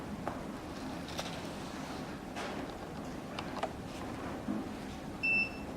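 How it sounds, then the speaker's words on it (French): A short, high electronic beep from a VS600 device finishing its self-test sounds once near the end after several seconds of quiet clicks and light handling noises. "Une fois qu'il aura fait son autotest, un bip va retentir"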